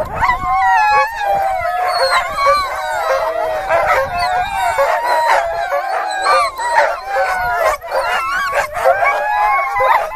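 Several sled dogs howl and yip together in an excited, overlapping chorus, loud and close, with whines and barks mixed in throughout, at Blackcomb.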